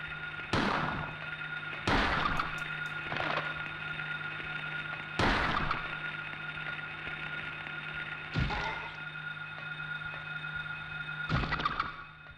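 Shotgun blasts in a video game: six loud, sharp shots spaced a second or more apart over about twelve seconds, each cracking hard then fading, with no voices.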